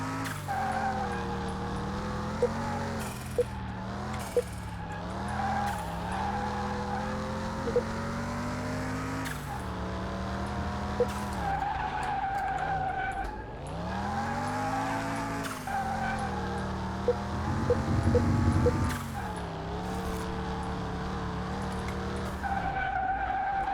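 A loud car engine in Car Mechanic Simulator 2021 drones steadily, rising and falling in pitch as the vehicle revs and shifts while driving, with no voices.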